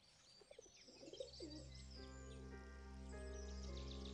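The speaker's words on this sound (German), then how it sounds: "Die Frage ist, ob ich mit den Tauben arbeiten muss." Pigeons coo and chirp in the Broken Sword 4 video game, a few soft calls early on and then steady cooing over a constant low ambient hum, moderately quiet with no talking.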